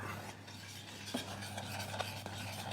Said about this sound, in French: je vais venir remuer pour homogénéiser